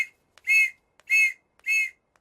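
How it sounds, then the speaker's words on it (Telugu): Police whistle blown in three sharp, shrill blasts at an even pace, close and loud with short silences between them. "పోలీస్ విజిల్ అంటూ భయం."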